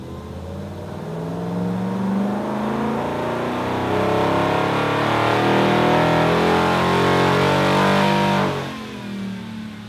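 A supercharged RAM 1500 HEMI eTorque V8 pickup revs hard on a dyno, a loud sustained engine roar climbing steadily in pitch through a long power run before dropping off abruptly near the end.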